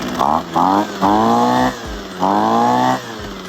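A small gas engine on lawn equipment, just started on choke, sputters and revs in four uneven surging bursts with brief dips between them, close and loud.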